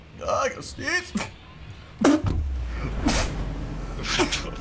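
A single sharp sneeze bursts out among casual chatter from several people during an online game, close and brief.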